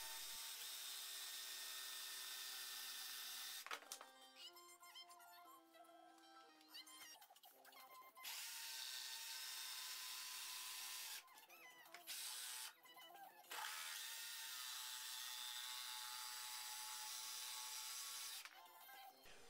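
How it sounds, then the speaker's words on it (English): A loud, steady table saw whines almost continuously while cutting wood, briefly cutting out and restarting a few times, with no voices. "take it to the table saw to cut it out"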